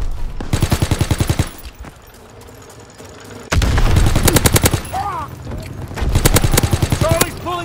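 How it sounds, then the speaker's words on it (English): Castle turret machine gun in Call of Duty WWII firing in loud, rapid bursts, with three long sustained volleys separated by a brief lull and battle noise around them. "Keep firing. Fire the castle turret."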